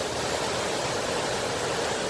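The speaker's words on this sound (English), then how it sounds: "Cauldron Snout waterfall." Cauldron Snout waterfall roars in a steady, dense wash of rushing water, loud and continuous with no breaks, heard close by and alone.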